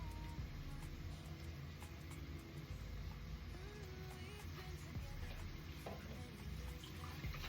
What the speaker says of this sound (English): And then you give that another stir